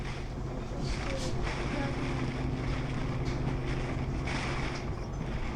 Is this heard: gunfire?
no